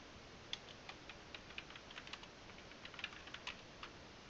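Soft, quick keystrokes on a computer keyboard, irregular clicks and taps in short bursts, faint and close with no talk.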